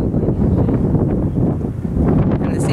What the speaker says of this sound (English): it's like 50 right now and really windy